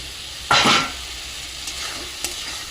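Eggs hitting a hot pan for Bengali egg kosa, a short loud sizzle-and-stir burst followed by quieter, fading frying crackle, with no talking.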